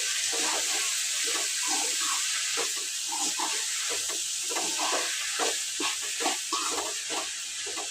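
Water pours steadily into a large pot for washing amaranth greens, a continuous splashing gush under faint bubbling, close and even throughout.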